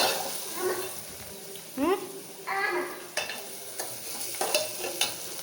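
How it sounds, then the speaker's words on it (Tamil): Onions sauté in a hot pan at home while being stirred, giving a steady soft sizzle broken by scraping spatula strokes and light clinks against the pan, close by, with a voice briefly heard. "வெங்காயம் வதங்கட்டும்."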